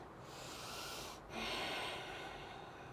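A cleansing breath during a yoga exercise, heard as a long, close, airy inhale followed by a brief pause and then a fuller, breathy exhale.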